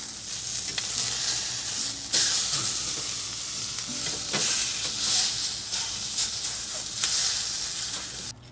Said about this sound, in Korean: 껍질을 조금 산기가 날 정도로 노릇하게 구웁니다